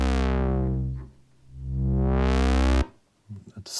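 Behringer UB-Xa synthesizer with its 2-pole filter at half resonance, a bright sustained buzzy tone sweeping down then back up with a resonant peak, cut off abruptly before brief speech.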